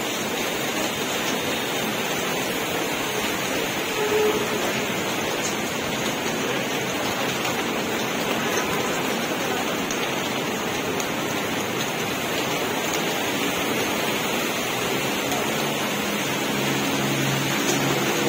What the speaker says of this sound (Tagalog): bigla-bigla yung ulan dito. Ang lakas oh.